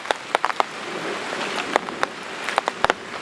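Steady rain falls on an open farm field of freshly plowed vegetable land, a dense hiss with scattered sharper drops tapping close by throughout.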